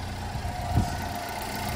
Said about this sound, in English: the engine is running smooth and the alternator is charging